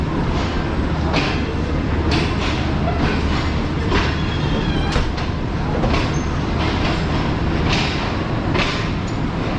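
Tezgam passenger train pulling away, a steady loud rumble of carriages with rhythmic clacks of wheels over rail joints and a faint metallic squeal, heard from on board.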